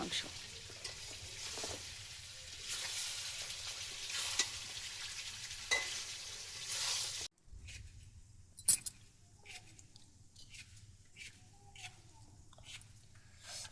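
Chicken kosha meat stir-frying in a pan: close, rhythmic scraping strokes over a sizzle, then a quieter stretch with scattered clinks and faint sizzling.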